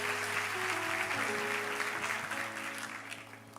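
Congregation applauding at a church service, a dense steady wash of clapping that continues for several seconds over sustained musical tones, gradually easing toward the end.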